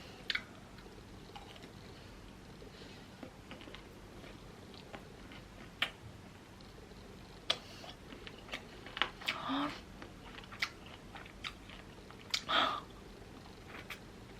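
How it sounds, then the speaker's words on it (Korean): Bburinkle cheese-seasoned fried chicken being chewed and bitten close up, with quiet crunchy bites scattered throughout and a few louder crunches toward the end. No talking. "프링클을 지금 엄청 오랜만에 먹거든요?"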